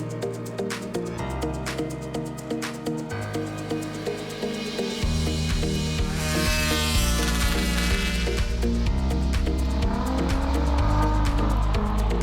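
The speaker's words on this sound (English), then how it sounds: "here's a mix of some of the more unusual vehicles that took to the track in Gowran Park" Unusual vehicles race on the track at Gowran Park during the 2018 Festival of Speed. Engines drone loudly and steadily, and one rises into a climbing whine of revs before the roar thickens and carries on.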